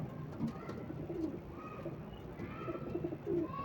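Pigeons raised on a rooftop coo softly and repeatedly in low, throaty murmurs. The coos overlap at a moderate distance, with a little faint background noise around them.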